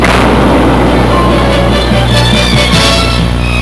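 Deck gun fire aboard an Oliver Hazard Perry class guided missile frigate, the 76mm naval gun booming in a loud, continuous, saturated roar with rumbling low end throughout.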